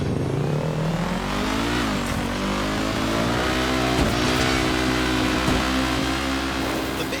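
A car engine in the video game Stuntman Ignition revs and drones steadily, pitch rising and dipping with acceleration, loud and continuous with occasional thumps and no talking.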